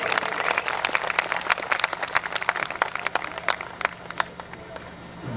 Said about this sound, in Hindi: आप आसमान तक की तालियां दें।